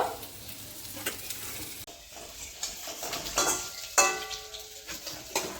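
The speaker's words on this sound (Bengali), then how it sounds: "পাঁচ থেকে সাত মিনিট আমি ভাজবো আলুটা একটু ভালো করে ভেজে নেব" Boiled potatoes fry in a pan with salt, giving a moderate, steady sizzle close by while a utensil clinks and scrapes against the metal now and then. There is no talking.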